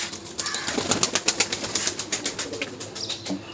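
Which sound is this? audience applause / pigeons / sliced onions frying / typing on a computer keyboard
pigeons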